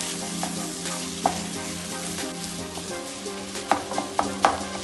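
A ground spice paste is stirred through a hot pan for a chicken dhum roti dish, with a steady sizzle underneath and a few sharp clinks of a spoon against the pan near the end.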